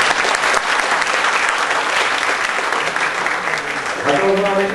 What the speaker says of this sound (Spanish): Lo vamos a despedir con un fuerte aplauso